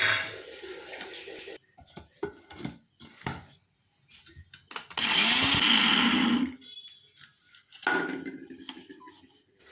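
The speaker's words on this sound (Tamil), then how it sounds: "சேர்த்து கொஞ்சம் நேரம் திரிச்சிட்டு அப்படியே எடுத்துடலாம்" A mixer grinder grinding spices for lemon pickle whirs loudly in short bursts, one long run in the middle, with clattering and pauses between the pulses.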